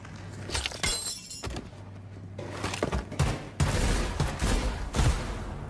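Gunfire in a video game, a few sharp shots and bursts with impact crashes spread across the stretch, fairly loud over a steady low game hum.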